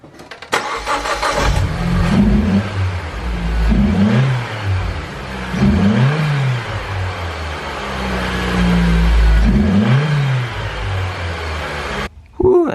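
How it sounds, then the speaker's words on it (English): A car with a newly fitted upper intercooler pipe cranks and fires up, then runs with a loud, close engine note that swells in repeated revs before settling, ending in a brief click. "I'm gonna go ahead and start up the car"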